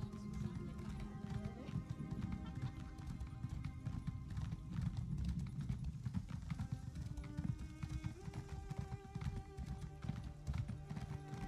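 Horse hooves clip-clopping steadily in the video game Elder Scrolls Online, a continuous trotting rhythm over layered game ambience and tones.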